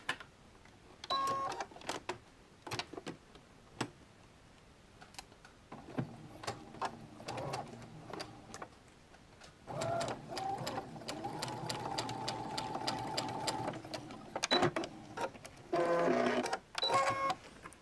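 A domestic sewing machine stitching bias binding onto fabric for a hair-drying hood, running in repeated bursts of steady rapid whirring with short pauses and clicks between, close and clear with no talk.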